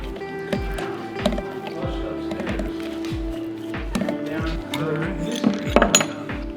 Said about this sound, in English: Now that this bushing is pressed all the way in, we'll get the sleeve in.